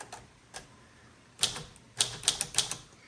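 Keys struck on a 1935 Corona Silent portable typewriter, a few scattered taps followed by a quick cluster of soft, muffled clacks, close and fairly quiet with no talk.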